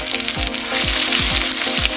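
Onion, carrot and cabbage sizzle loudly in about three tablespoons of oil in a wok, with a bright continuous hiss and a few repeated knocking strokes as the vegetables are tossed, close up and without speech.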